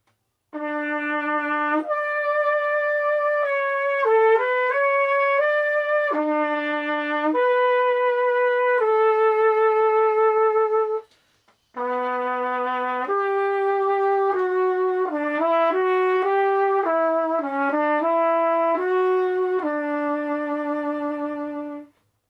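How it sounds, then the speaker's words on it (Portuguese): A trumpet plays a clear, bright melody alone, with sustained notes and quick runs, pausing briefly midway before continuing the tune. "e o trompete agora fazendo a mesma música."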